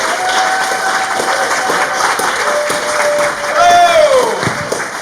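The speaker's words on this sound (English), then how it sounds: "if we could start the applause at the back of the room" Audience applause for a comedian walking on stage at a live comedy show, sustained clapping from the crowd that swells near the end, with a host's voice speaking over it.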